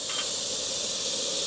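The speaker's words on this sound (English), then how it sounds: "From a distance, I'm going to spray" An airbrush sprays paint in a steady, close, even hiss that lasts the whole moment, with no talking.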